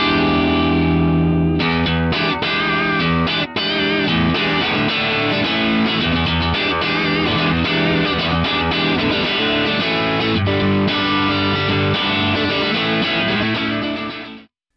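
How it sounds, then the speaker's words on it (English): Electric guitar through an Axe-Fx Vibroverb amp model with speaker drive raised, a continuous run of chords and lead notes with light reverb, loud and alone, ending in a fade. "This speaker drive control with the VIBROVERB, I like to bring it up to about 4"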